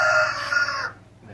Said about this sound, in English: Of course the roosters wanna do their calling.